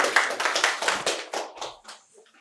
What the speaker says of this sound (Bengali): সকলে একবার জোরে হাততালি ওদের জন্য।